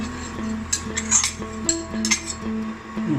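Utensils stir and mix food in a metal pot during miswa noodle cooking, with a rapid run of close clinks and scrapes against the pan.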